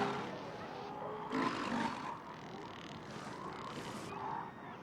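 Elephant seals, cows with pups on a breeding beach, give out low, throaty roaring calls in overlapping bursts, faint and distant-sounding against a steady background.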